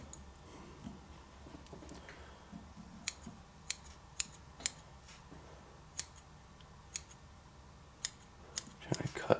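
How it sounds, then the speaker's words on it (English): Scissors snip hair on a Joker action figure, trimming long strands in a series of sharp, close clicks spaced irregularly over faint background noise. "Trying to cut up into the hair."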